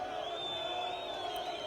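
Crowd noise at a street protest in Algeria, a steady mass of voices jeering and shouting at a small group of protesters, dense and continuous throughout.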